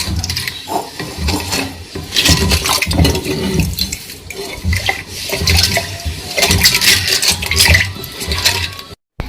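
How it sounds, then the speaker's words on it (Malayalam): Water splashes and gurgles into a pot of rambutan wine mixture in two sustained pours, with some clattering of utensils between them. "അപ്പം നമ്മൾ കുറച്ച് വെള്ളം ഒഴിച്ചിട്ട് വേണം ഇത് ഒന്ന് ഇളക്കി യോജിപ്പിച്ച് കൊടുക്കാം"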